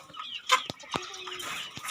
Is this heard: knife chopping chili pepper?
no